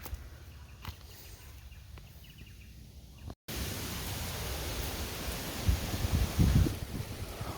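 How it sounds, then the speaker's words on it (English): Wind gusting through the bush around a tent, a steady broad rush that swells louder in the second half with rustling and low buffeting. "Oh, wind is really picking up."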